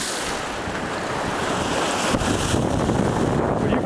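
Waves from one of the Great Lakes break and splash against a rocky shoreline, a steady loud wash of surf with heavy wind rumble on the microphone, surging stronger near the end.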